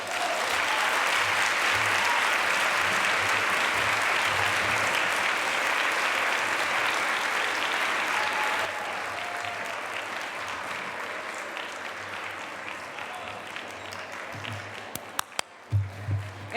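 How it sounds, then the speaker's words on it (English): An audience at a Smith College dinner program applauds Andrea, dense and loud at first, then thinning to a softer patter before a few sharp knocks and thumps at the end. "Andrea, I think you need more applause."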